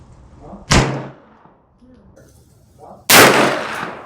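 A 9mm carbine fires at clay pigeons with two sharp, loud gunshots about two and a half seconds apart, each ringing out briefly, with quiet murmuring in the gaps.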